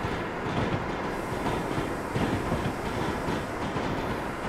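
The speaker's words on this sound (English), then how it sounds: "Oh, look at this freight train." Freight train rolling past on the New York to New Haven line in Train Simulator 2015, a steady rumbling roar with faint clickety-clack of wheels over rail joints, continuous throughout and without talk.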